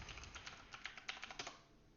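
A password is typed on a computer keyboard during a Debian Linux sudo setup, a quick run of about a dozen soft, close key clicks in an uneven rhythm, faint and without speech.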